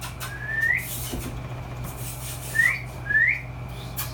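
Three short rising whistles at a puppy, one alone and then two close together, sound over a quiet low background hum.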